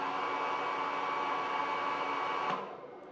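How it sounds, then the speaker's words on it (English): A Harvest Maid food dehydrator fitted with a hair dryer inside blows with a loud, steady whirring roar and a faint tone, then winds down near the end. "So that's the actual hair dryer going on"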